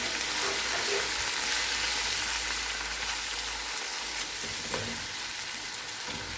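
Onions fry in oil with ginger garlic paste for an aloo gosht curry, a continuous close hiss and sizzle with faint stirring scrapes underneath and no talking.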